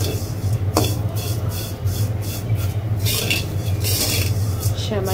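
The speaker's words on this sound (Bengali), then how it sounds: "সেমাই ভেজে নিচ্ছি" Vermicelli (semai) frying in a pan with bay leaves and whole spices, a busy sizzle with repeated scraping and rubbing strokes of a utensil, close and steady throughout.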